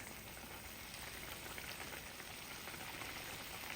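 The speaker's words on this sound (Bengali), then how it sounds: "তো এই পর্যায়ে আমি মাছগুলা দিয়ে দেব, এই যে একটা একটা করে।" Fish pieces for a home-style sea bata fish bhuna are added one by one to a hot pan, producing a steady, dense sizzle that holds evenly throughout with no talking.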